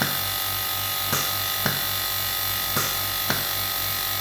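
An oil-type cow milking machine runs with a steady low mechanical hum and faint whine, broken by soft periodic pulsing clicks roughly every half second to second, close and moderately quiet.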